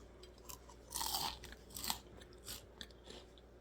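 Loud, close-up crunching on double-fried potatoes, a handful of crisp bites and chews in an irregular rhythm with quiet pauses between.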